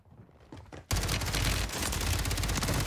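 A two-shot nail gun and other weapons in the Warzone 3 video game open up with dense, loud rapid gunfire. A few quieter shots come first, then a sudden sustained fusillade.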